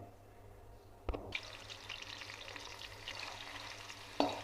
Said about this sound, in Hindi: प्याज को आपने क्या कर लेना है, ब्राउन करना है